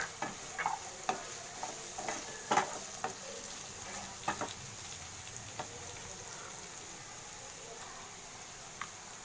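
Onion and capsicum sauté in a pan, a quiet, even sizzle broken by scattered light clicks and taps of stirring.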